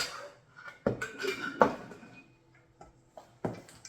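A utensil mixes chocolate chips into sugar-free, low-carb shortbread cookie dough in a bowl, making several quiet, irregular knocks and scrapes with short pauses between them.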